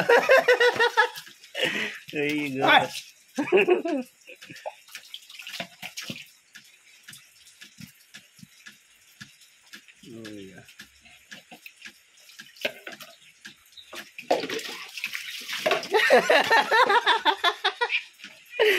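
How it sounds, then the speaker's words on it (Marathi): A cat being bathed at home with soap and water, splashing and running water coming in bursts near the start and again toward the end, with people talking and laughing over it. "तिकडे बाबा बघा, आता मांजराला आंघोळ घालतायत."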